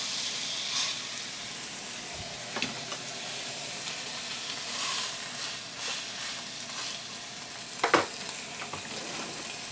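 Steak searing in a smoking-hot cast iron brazier over the highest heat gives a steady, close sizzle and crackle, broken by a few sharp pops and spatters.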